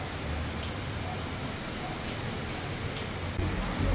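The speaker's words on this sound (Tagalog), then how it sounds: "Ayan, medyo malakas na yung ulan." Steady typhoon rain falls in a dense, constant patter, hissing evenly throughout with no voices.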